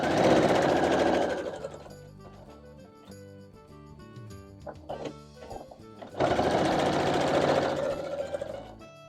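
A sewing machine joins quilt block pieces for a barn star block, with a loud burst of rapid stitching, a quieter pause with faint clicks and handling, then a second steady run of stitching.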